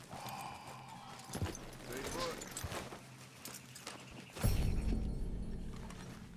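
Horse hooves clip-clop at a walking pace in Red Dead Redemption 2, with a rhythmic stream of soft hoof strikes under game ambience and brief whinny-like sounds, turning to a heavier, louder rumble near the end.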